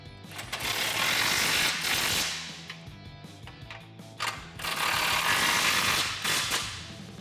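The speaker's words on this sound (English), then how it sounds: "19mm hardware up here and a U-joint on the impact does help a lot for these" An impact wrench fitted with a U-joint drives 19mm frame rail bolts on a Jeep Wrangler JL during a front bumper install. Two long, loud rattling hammering bursts sound close by, separated by a brief pause.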